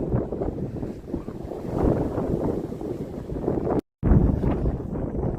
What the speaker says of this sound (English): this wind is really in keeping with my abandoned, windswept concept of this ground